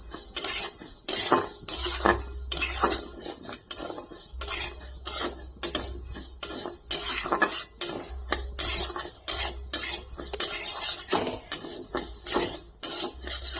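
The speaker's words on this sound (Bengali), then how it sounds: "মুগ ডালটাকে হালকা করে ভেজে নেব।" Golden mung dal is stirred and lightly dry-fried in a pot, a spoon scraping and clinking against the metal in steady repeated strokes, close and clear, with a faint sizzle underneath.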